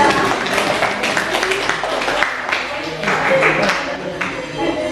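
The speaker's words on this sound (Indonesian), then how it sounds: "Tepuk tangan buat kelompok kita." Classroom audience applause for a presenting group during a teacher-training session at Universitas Negeri Makassar: dense, steady clapping filling the whole stretch, fairly close and even in loudness, with voices faintly mixed in.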